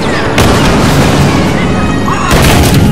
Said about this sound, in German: Ich hasse die Granaten, wenn sie da immer ihre Granaten reinwerfen